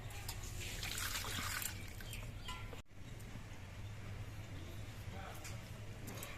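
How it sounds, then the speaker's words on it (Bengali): Water trickles and splashes over cut drumstick (moringa) pieces set to soak, a steady close pouring sound with a brief break partway, under soft talking and faint bird chirps. "এবার একটু জল দিয়ে ভিজিয়ে রাখছি"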